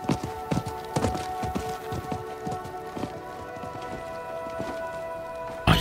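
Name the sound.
horse hooves clip-clopping in video game Diablo 4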